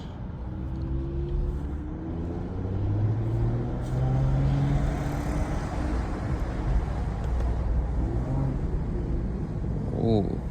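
A 2024 Mercedes-AMG GLE Coupe is heard from inside the cabin on a city drive, its engine and road rumble steady, then a brief rising rev near the end as it downshifts. A voice speaks over it.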